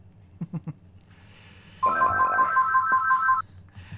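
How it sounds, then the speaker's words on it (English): A telephone on a line connected to the studio rings with an electronic trill lasting about a second and a half, preceded by a few soft knocks and followed by quiet room noise. "We can indeed hear the phone."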